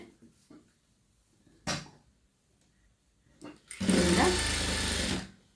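Close sewing machine runs a steady burst stitching the last edge of a boat-neck blouse's cross belt, preceded by a few sharp knocks and handling clicks, no speech.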